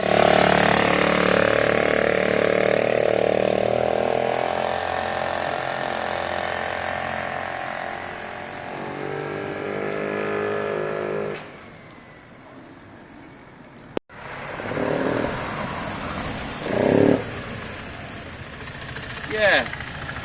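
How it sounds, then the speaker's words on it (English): A Honda CB200 motorcycle engine, smoking after diesel contamination, idles with a steady mechanical clatter. It cuts out partway through, and then people talk nearby with a few knocks. "Diesel went through this engine a couple of weeks back."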